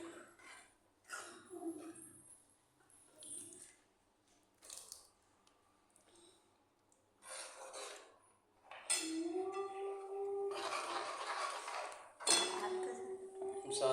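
Spoon scraping and clinking against a pan while shahi paneer masala and milk are stirred together, a run of metallic scrapes and knocks that turns louder and steadier toward the end, with a voice talking over parts of it.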